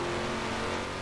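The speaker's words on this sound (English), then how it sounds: "those are the tires going. Car's just starting to spin under brakes" A car in Forza Horizon 4 with its tires losing grip and starting to spin under hard braking, giving a steady, loud engine and tire roar with no talk.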